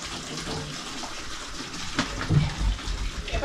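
Hot water gushes steadily from a broken water line under a cabin floor, a continuous rushing hiss that grows slightly louder and more turbulent toward the end.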